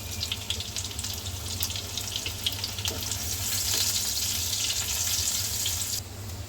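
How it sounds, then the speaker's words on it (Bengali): Chopped onion fries in a pan as tempering for a pineapple khatta mitha, a steady close hiss and sizzle that swells midway and then drops off near the end. "আমার পেঁয়াজ ভাজা হয়ে গিয়েছে"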